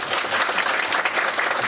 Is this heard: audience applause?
yes